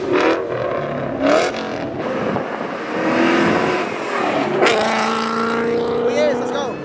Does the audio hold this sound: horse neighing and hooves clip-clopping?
no